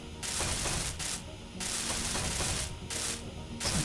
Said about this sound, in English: let's weld this up and let's see how it looks